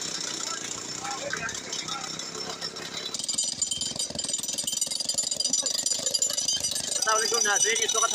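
Rock drill breaking rock to clear a landslide blocking the Skardu–Jaglot road near Dombudas, a loud continuous hammering rattle running throughout, with voices talking over it.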